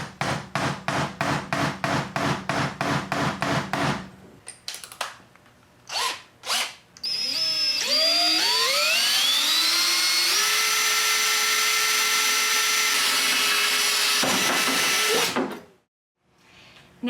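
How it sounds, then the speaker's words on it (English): A power drill bores a pilot hole through the centre of a sheet of metal laid on a flat surface: quick repeated bursts, then a loud rising whine that holds steady for several seconds before cutting off, near and without talk. "Now that the hole has been drilled in the center of our sheet metal"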